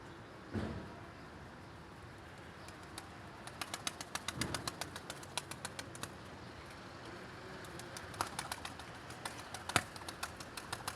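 Pigeons coming down onto a rooftop antenna, with a few soft wing flaps and a series of quiet, sharp clicks and taps over faint outdoor background noise. No cooing can be made out and no one speaks.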